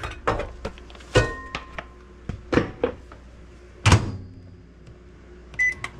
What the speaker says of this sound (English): I'm going to put it in the microwave.